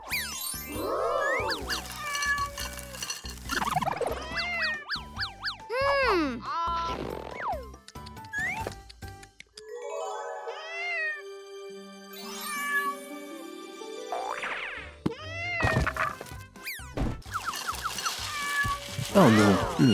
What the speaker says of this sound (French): Wolfou, il est temps pour le chat de manger aussi.